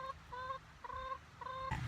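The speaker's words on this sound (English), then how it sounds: "These chickens love mud." Wet chickens standing in thick mud cluck in a clear, repeated rhythm of short calls from close by, with a brief burst of broadband noise near the end.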